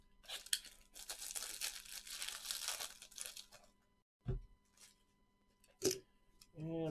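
Trading card boxes of 2020 Topps Chrome Update Sapphire are cut and torn open up close, giving crinkly ripping and scraping of cardboard and wrapping, then a few sharp thuds and handling noises, with no talking.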